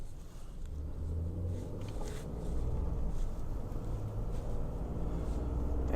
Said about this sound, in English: I'm going on a test drive here